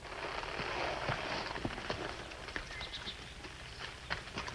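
Horses' hooves clip-clopping on ground at a steady walking pace in an old Western radio drama, faint and somewhat distant under a low background hiss.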